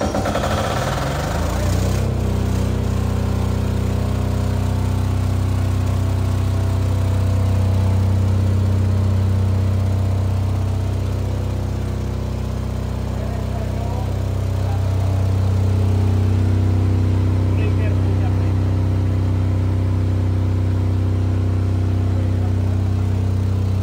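A generator engine is started with a key, cranking briefly before catching and settling into a steady, loud, low-pitched running drone that swells slightly midway and holds to the end.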